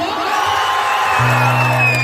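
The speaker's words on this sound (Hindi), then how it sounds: "हल्ला करके ताली बजा दियो" A live Maithili stage-show audience whooping, yelling and clapping with broad cheering noise, loud and continuous, with a sustained low tone entering partway through.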